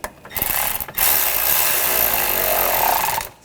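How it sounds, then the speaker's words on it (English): Ratcheting a hose clamp tight during a starter replacement on a 2004-2012 Chevrolet Colorado 3.7L, a loud, close, rapid mechanical ratchet buzz in two bursts separated by a brief pause. "And tighten down the hose clamp."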